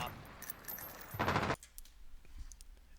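A gunshot from a first-person shooter game cracks out as a dense burst of about a third of a second, loud and sharp, set against steady game ambience and light clicking before and after.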